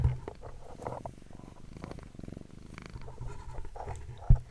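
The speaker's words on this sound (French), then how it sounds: "Oui, mon petit chat ronron." A cat purring close by, a steady low rumbling rhythm that rises and falls with each breath, with a soft bump near the end.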